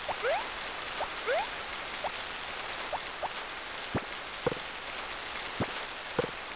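Rain falls steadily in the Harvest Moon: Friends of Mineral Town farming game, a soft constant hiss. Faint rising chirps and scattered sharp ticks sit on top of it, and no one speaks.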